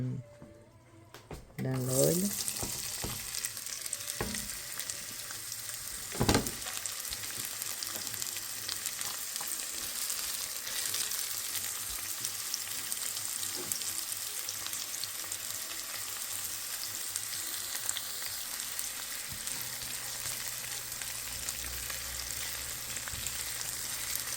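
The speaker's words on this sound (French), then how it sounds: "Je commence à ajouter des oignons dans l'huile." Chopped red onion frying in oil in a home kitchen gives a long, steady sizzle after an initial clatter and a sharp knock, with occasional handling noises and faint voices in the background.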